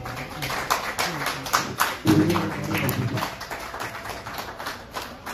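Guests clapping at a civil wedding ceremony as the groom rises, scattered sharp claps close by with a low hum underneath, fairly light and uneven rather than a full ovation.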